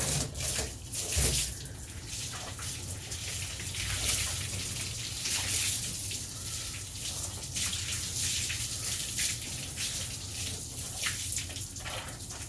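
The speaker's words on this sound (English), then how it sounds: "Alright, let's rinse it off." A steady, full rush of running water rinses cleaner residue off a surface, sounding close and continuous throughout with a slight shift in its flow near the start and no voices.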